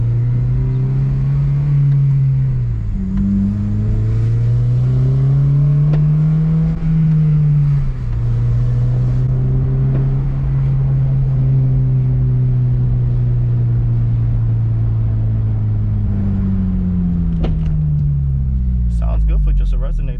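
A 2006–2011 Honda Civic Si (FA5) with a resonator-deleted exhaust idles close by, then rises into several revs that climb and fall back. A deep, droning exhaust note stays loud throughout.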